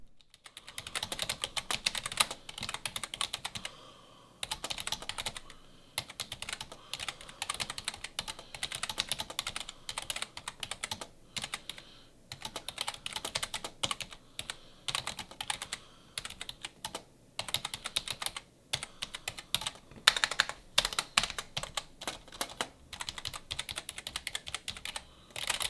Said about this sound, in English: considering it's a membrane keyboard, this actually sounds pretty good. Take a listen.